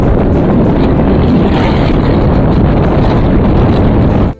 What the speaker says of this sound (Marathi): इथे वाऱ्याचा वेग एवढा होता की असं वाटत होतं की वारा नसानसांमध्ये भिनत चाललाय